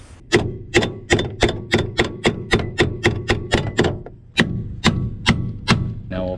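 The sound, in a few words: hammer tapping car door hinge into place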